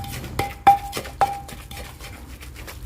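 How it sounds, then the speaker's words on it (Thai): A pestle pounds chili paste with fish sauce in a mortar, giving three sharp knocks with ringing, clinking overtones spaced about half a second apart, followed by quieter low thuds. "นี่เราก็ตำครับผม"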